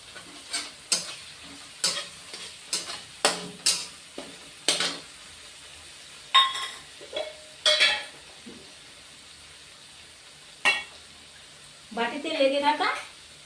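Ground poppy seed paste goes into a pan of spices for a charapona fish dish and is stirred, with repeated short scraping strokes of a spoon against the pan, then a brief sizzle.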